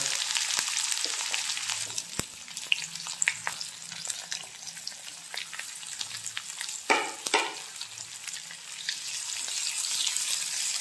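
Onions and bay leaves sizzle steadily in hot oil, with occasional stirring scrapes and pops, close and continuous without any talk.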